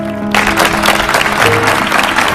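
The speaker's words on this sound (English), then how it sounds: "people began to clap for her truthfulness" An audience bursts into loud applause after a short musical tone, many hands clapping densely and steadily until the end.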